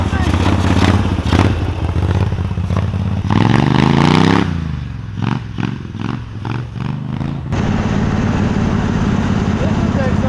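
A 999cc V-twin engine driving a CVT vehicle, running loud and close with a rising rev as it accelerates, then dropping into a choppier, pulsing idle before surging again; a voice talks over the engine noise.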